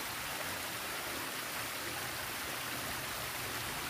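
Forest stream flowing steadily, a soft, even rush of water that stays constant and fairly faint with no other sounds.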